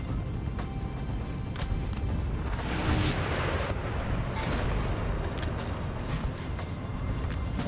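10-pounder artillery guns fire in a Napoleon: Total War battle, heard as a dense, continuous rumble of distant booms layered into a roaring battlefield din with no clear single shots.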